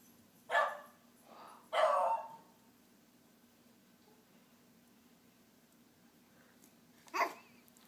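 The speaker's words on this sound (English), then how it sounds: "Did you hear a doggy?" A dog barks a few times at a distance, two close barks followed by a lone bark after a pause, over a quiet background hum.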